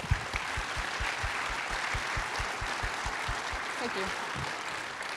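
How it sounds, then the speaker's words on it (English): Audience applause at the OFC 2025 plenary session, a steady broadband wash of clapping from a seated crowd filling the room for about five seconds. "Let's give them a round of applause."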